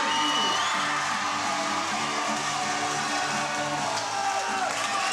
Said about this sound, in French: Une standing ovation qui le déclare vainqueur.